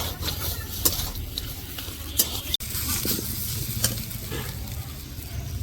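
A spatula stirs fried peanuts through a vegetarian vegetable chop filling in a hot pan, a steady sizzle broken by sharp scraping and clinking strokes at irregular intervals.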